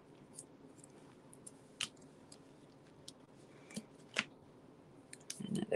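Tear tape being torn and pressed onto a paper envelope while it is decorated: a few sharp, close rips and crackles spaced out over near silence, with a denser rustle at the end.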